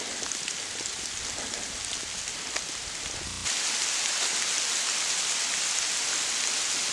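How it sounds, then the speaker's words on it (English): Small hailstones falling on a Mount Kearsarge hiking trail in New Hampshire, a dense steady hiss of tiny impacts with scattered sharper ticks, growing abruptly louder and brighter halfway through. "and it just started hailing. It's really small, it doesn't hurt."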